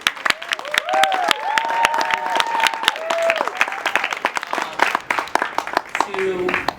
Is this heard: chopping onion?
no